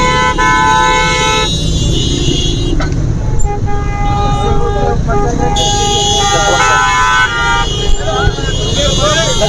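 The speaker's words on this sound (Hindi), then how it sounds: "हमारे साथ कुछ इस वक्त ट्रैफिक भी जाम हो रही है" A jammed street in Quaidabad, Karachi, after an accident, with car and truck horns honking loudly and repeatedly over dense traffic rumble while a reporter speaks throughout.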